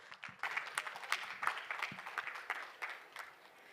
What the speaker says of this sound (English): Can we please give her a huge round of applause, guys?